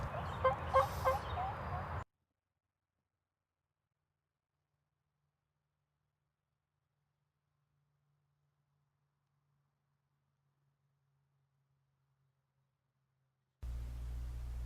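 A wild turkey gobbles once during a Tennessee spring turkey hunt, a brief rattling call lasting about two seconds, followed by long near-silence until faint background sound returns at the end.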